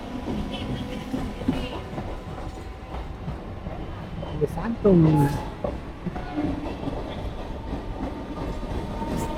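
A train rumbles past nearby with rhythmic clatter and a brief squeal, while someone speaks a few words over it.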